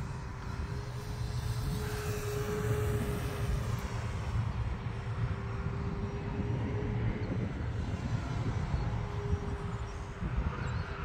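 An E-flite T-28 1.2m RC model airplane drones steadily overhead at moderate distance, with a sustained engine tone that shifts slightly as it flies through wind, and no one speaking.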